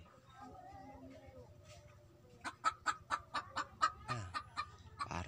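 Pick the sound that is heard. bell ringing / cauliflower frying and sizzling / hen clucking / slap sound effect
hen clucking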